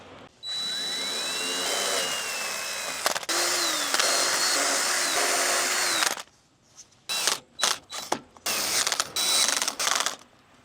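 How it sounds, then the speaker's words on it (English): Cordless drill with its clutch engaged, driving black-painted self-tapping screws into an aluminum deck railing; a rising motor whine with ratcheting clutch clicks runs steadily for several seconds, then breaks into short repeated bursts. "I really like using the clutch on the drill for these screws into aluminum."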